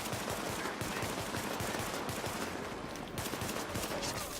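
Dense, continuous gunfire from The Division fills the whole stretch, rapid automatic bursts overlapping into a steady loud clatter with no voices over it.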